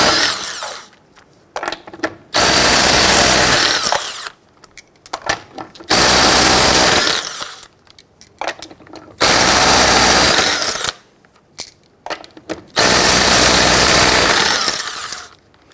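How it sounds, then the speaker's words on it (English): Impact wrench with a 19mm socket spinning off lug nuts on a 1999-2004 Jeep Grand Cherokee, four loud rapid hammering bursts of about two seconds each, separated by short quiet pauses. "Using your 19mm socket, loosen and remove your lug nuts."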